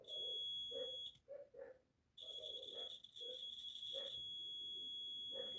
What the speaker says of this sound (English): you will hear the multimeter beeping